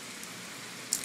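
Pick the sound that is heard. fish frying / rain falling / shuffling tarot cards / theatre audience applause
rain falling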